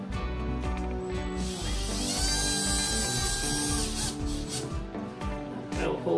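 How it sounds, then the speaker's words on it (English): A power drill bores a pilot hole into drywall while installing shelves, its loud steady whir and grinding bite running continuously close by for several seconds. "we drill a pilot hole"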